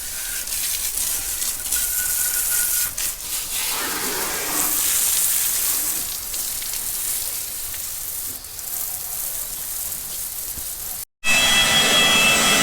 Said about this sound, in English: He's blow drying his tractor.